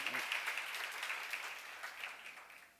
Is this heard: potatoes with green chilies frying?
no